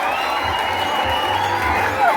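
Wedding guests at a church ceremony applauding and cheering, a crowded wash of clapping mixed with voices and whoops, moderately loud and sustained.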